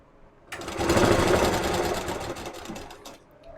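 Sewing machine running a seam on net kurti fabric, starting abruptly and whirring in a loud, even rhythmic stitch for about three seconds before easing off.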